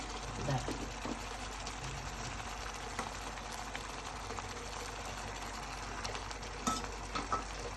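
Poached eggs set into a hot pan give a steady, fairly quiet sizzle with soft crackling throughout, plus a few small clinks near the end and no talking.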